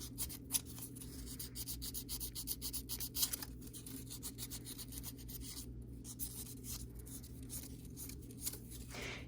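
Sandpaper rubs back and forth along a silver seam at a silversmithing bench, quiet, close and continuous, with soft scratchy strokes and a few sharper scrapes.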